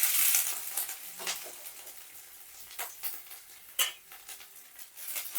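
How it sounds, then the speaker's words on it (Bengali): Crushed ginger and green chili sizzle steadily in oil in a pan while a utensil scrapes and stirs at irregular intervals, close and fairly quiet, with no talking. "এবার এটা একটু ভেজে নেব"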